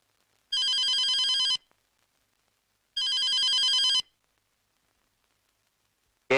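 A telephone in a Tamil film scene rings with two long electronic trills separated by silence, clear and alone, with a third ring just starting at the end.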